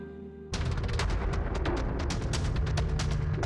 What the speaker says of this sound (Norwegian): Det har vært skutt inn her.